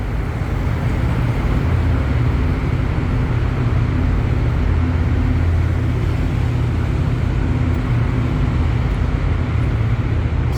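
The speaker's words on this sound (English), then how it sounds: "The loud whirring noise you can hear now is the one that sucks the pollution out." A loud, steady whirring roar from a ventilation fan extracting polluted air inside the Rotherhithe Tunnel road tunnel fills the space continuously, with a dense low rumble and no gaps.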